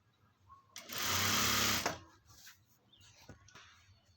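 A sewing machine with a saree pleat attachment stitches folded saree fabric along the lower side in one loud, steady burst of about a second, close to the microphone, with quiet handling noises before and after.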